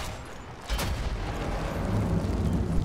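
A sniper rifle shot in Sniper Elite 4, one heavy booming report followed by a long, rumbling low-frequency tail that fills the rest of the moment.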